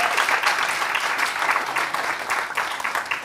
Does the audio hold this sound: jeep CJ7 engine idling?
no